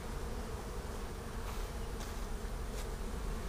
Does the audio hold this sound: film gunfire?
no